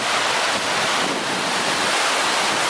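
Floodwater rushing down a flooded street like a river, a dense, loud, continuous roar of churning water mixed with wind buffeting the microphone, steady throughout with no talk.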